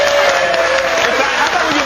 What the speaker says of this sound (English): Can we get a round of applause for the long-distance relationship phone call record?